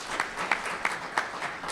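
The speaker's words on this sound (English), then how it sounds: "please give him a round of applause" An audience at a legislative conference claps for a mayor, producing steady applause of many hands with a few sharper claps standing out, fairly close and unbroken for the short stretch.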